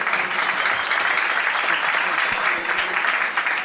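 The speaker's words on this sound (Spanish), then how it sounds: "aplauso, por favor" A crowd at a live public event gives volunteers a steady, dense round of applause, continuous clapping at an even level with some voices mixed in.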